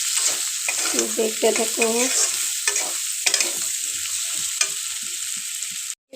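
Potatoes frying in oil in a pan for a spicy fish-oil eggplant dish, a steady close sizzle with scraping stirs throughout and a brief spoken line over it.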